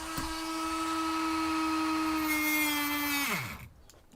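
A Dremel rotary tool cutting carbon fiber, a sustained high-pitched whine for about three seconds that then winds down as the motor slows and stops.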